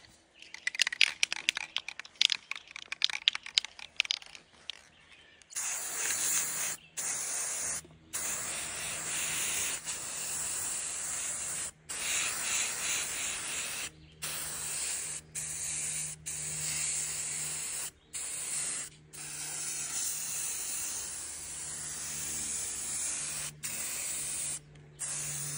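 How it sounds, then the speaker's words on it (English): Long bursts of spray paint hissing steadily from an aerosol can, broken by several brief pauses, close and fairly loud, preceded by a few seconds of rattling and shaking. "take a can of spray paint"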